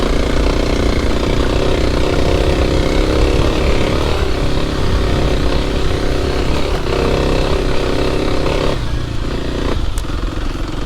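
A 2024 Kawasaki KLX 300 dirt bike climbs a rutted hill in low gear, its engine droning loud and close without pause, a steady rough single-cylinder growl with slight shifts in pitch as it pulls upward.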